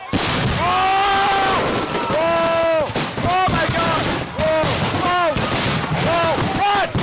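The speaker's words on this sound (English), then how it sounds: "a malfunction just 2 minutes into the show sent fireworks flying into the crowd" A malfunctioning professional fireworks display at a public show in Simi Valley fires rockets into the crowd: loud, continuous barrage of whistling, screaming launches and sharp bangs with shouts, dense and close throughout.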